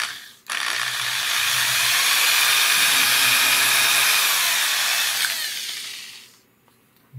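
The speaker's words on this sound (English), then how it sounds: "let me go ahead and take my drill very carefully, stick it in this hole right here," A power drill bores out the rivets of a lamp socket switch, giving one loud, sustained whining run of several seconds that starts abruptly and tapers off at the end, with no talk.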